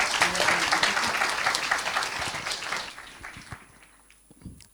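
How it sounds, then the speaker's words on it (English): Audience applause for youth panelists at a World Vision campaign launch in Asia Pacific, loud and lively clapping at first that gradually thins and fades to a few scattered claps. "Can we give them a bigger round of applause"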